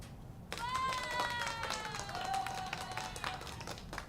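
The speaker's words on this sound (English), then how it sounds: "Here comes the applause" An applause sound effect of a crowd clapping in dense, steady patter for several seconds, starting abruptly, with a faint tonal ring layered through it.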